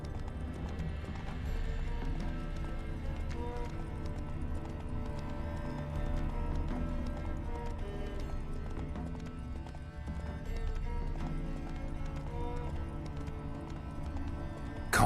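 Roach, a horse in The Witcher 3 video game, gallops with a steady stream of clip-clopping hooves, loud and close throughout, set within a dense game soundscape of background music, with no talking.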